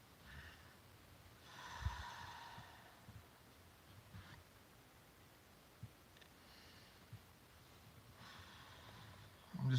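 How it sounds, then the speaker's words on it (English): A person in a car takes two deep, audible breaths, each a soft drawn-out rush of air, close and quiet over low road hum. "Let's go ahead and get our two breaths in."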